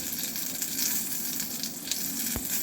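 White cumin seeds and torn bay leaves frying in hot oil, a soft, steady sizzle with faint crackles close by and no voices.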